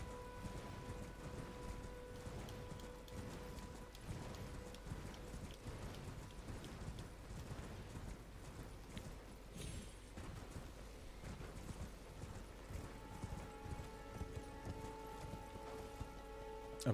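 A horse trots with steady, soft clip-clop hoofbeats under a faint background wash while a rider enters a church in Elden Ring.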